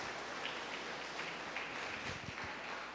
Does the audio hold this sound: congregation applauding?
yes